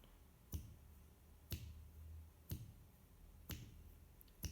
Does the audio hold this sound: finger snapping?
yes